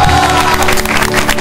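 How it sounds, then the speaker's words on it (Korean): A loud, close crowd at a high school claps and cheers to welcome a visiting guest, with a dense roar of mixed voices and applause filling the short moment. "박수로 환영합니다"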